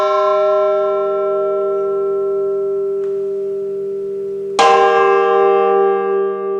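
A church bell rings with a long, sustained, harmonic-rich tone that slowly decays, then a fresh strike brings a bright, loud renewal of the ringing. The bell sounds alone and close, with no voices.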